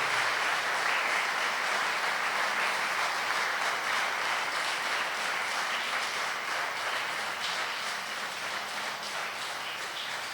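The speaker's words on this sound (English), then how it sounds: "I think the thunderous applause is a proof for that." Sustained audience applause in a hall after an hour-long talk, a dense, even roar of clapping that holds steady and tapers slightly toward the end.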